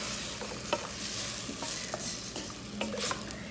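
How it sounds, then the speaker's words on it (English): Okra stewed in tomatoes with parsley gets stirred in a pot over fairly high heat, a continuous bubbling sizzle with soft, irregular scrapes and clicks of the spoon close by. "And we're going to stir that all together."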